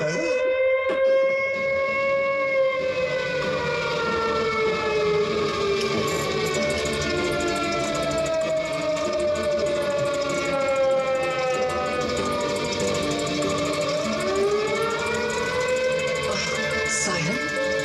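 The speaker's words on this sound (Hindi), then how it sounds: "सायरन" A loud siren wails continuously, its pitch sweeping slowly up and down in long rising and falling tones, with no other sounds competing.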